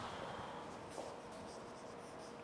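Pen or marker writing a word during an online English lecture: faint, steady scratching strokes with small taps, close and quiet, with no speech over it.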